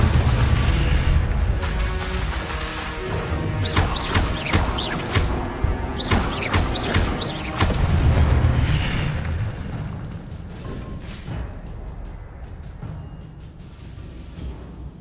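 In Hogwarts Legacy, an Incendio fire spell blasts with a loud burst and crackling, rumbling roar, followed by further sharp impacts and crashes that gradually fade into a lower, rumbling tail.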